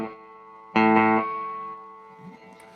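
A cheap delay pedal with echo volume at full and feedback at zero, giving a loud struck guitar chord followed by a single fainter repeat that rings and decays, with no further echoes.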